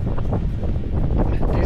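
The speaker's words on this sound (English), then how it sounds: "too windy" Strong wind on a snowy mountain buffets the microphone with a continuous low, gusty roar, loud and close, with no other sounds standing out.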